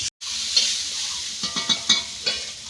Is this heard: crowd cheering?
no